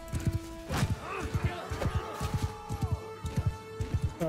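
Cavalry horses in Mount and Blade charging, with rapid rhythmic hoofbeats pounding close and a horse whinnying over them, steady and moderately loud throughout.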